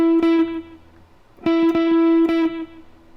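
Electric guitar playing a lick from a solo: two short phrases of picked and pulled-off sustained notes with a gap between, clear and alone.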